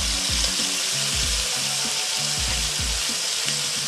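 A ribeye steak sears in a pan with garlic, giving a constant bright sizzle and periodic low thumps and scrapes. The sound is steady and moderately loud, with no talking.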